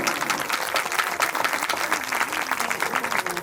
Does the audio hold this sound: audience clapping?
yes